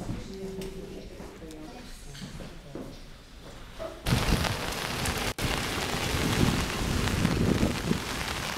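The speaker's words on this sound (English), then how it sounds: "it's raining on set" Rain falling outdoors on a film set, first a faint patter under quiet voices, then a loud, steady close-up hiss of rain on surfaces filling the second half.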